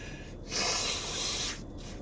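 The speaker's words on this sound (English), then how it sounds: "I am going to blow my nose right now" A single loud, wet nose blow lasting about a second, a hissing rush of air rising out of a quiet room and cutting off.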